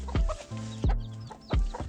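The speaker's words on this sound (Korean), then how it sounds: "그동안 포란하느라 고생한 암탉들과 갓 태어난 병아리들을 위해" Hens in a coop with newly hatched chicks give three close, low clucks spaced evenly apart, with softer tonal calls running between them.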